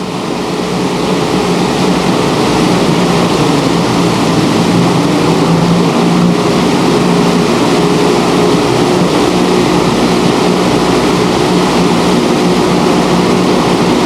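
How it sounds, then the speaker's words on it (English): The engines of an aircraft flying over canyons drone loudly and continuously from on board, an unbroken, even roar with no pauses. "I hope you can hear me about the noise of the engines"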